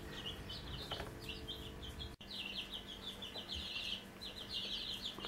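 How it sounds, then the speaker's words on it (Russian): Newborn partridge chicks chirp repeatedly under a heat lamp, a busy run of high, quick peeps close by and fairly faint over a low hum. "А вот новорожденный курпачоночек"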